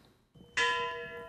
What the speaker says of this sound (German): 25 Glockenschläge.